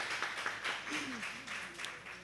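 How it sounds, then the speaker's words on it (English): Audience applause welcoming a guest to an onstage conversation, soft continuous clapping from a crowd at a distance with a voice speaking briefly over it. "A round of applause."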